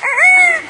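A budgie imitates a rooster's cock-a-doodle-doo: one short, loud, rising and falling crow, clear and close, with no talk over it.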